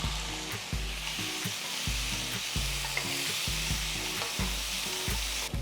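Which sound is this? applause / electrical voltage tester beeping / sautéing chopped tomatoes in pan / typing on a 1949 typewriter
sautéing chopped tomatoes in pan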